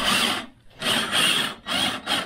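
A step drill grinds through metal for a Land Rover Discovery winch mount in three long, harsh bursts separated by brief pauses, loud and close.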